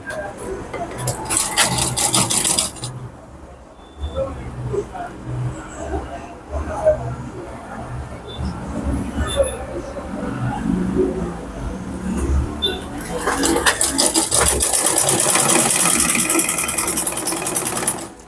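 A sewing machine stitches stretch fabric for a turban in steady bursts of whirring, and it runs louder at the start and near the end. A person talks over much of it.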